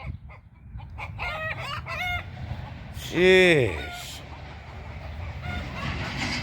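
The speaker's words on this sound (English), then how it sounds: "Chickens listen real good" Chickens cluck in rhythmic bursts and a rooster lets out one loud, drawn-out crow near a greenhouse, close by, with a steady background hum and a brief spoken word.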